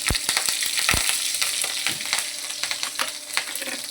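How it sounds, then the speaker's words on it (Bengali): Dried red chillies and green chillies sizzle and crackle in hot oil in a pan, a loud, steady frying hiss with sharp popping spatters and a few stirring scrapes, no voices. "তেল গরম হয়ে গেছে, শুকনো লঙ্কা একটা ফোড়নে দিয়ে দিলাম, কাঁচা লঙ্কাগুলো এর সাথে দিয়ে দিলাম"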